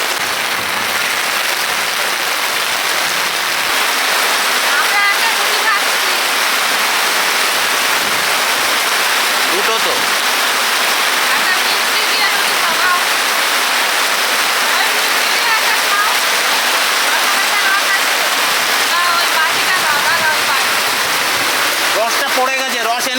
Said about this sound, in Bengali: বিরাট বৃষ্টি নেমেছে